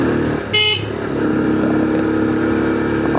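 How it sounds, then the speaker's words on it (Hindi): Street traffic in Drosh bazaar, Chitral, Pakistan: engines and motorcycles rumble steadily and close by, and a sharp car horn honks once early on. "ये है जी दरोश बाज़ार"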